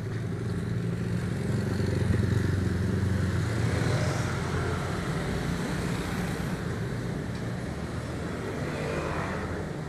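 A Honda Beat FI V2 scooter engine runs steadily for the whole stretch, a low rumbling idle with a broad, noisy wash over it and no voices.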